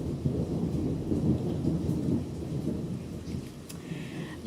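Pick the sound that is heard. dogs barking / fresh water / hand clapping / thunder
thunder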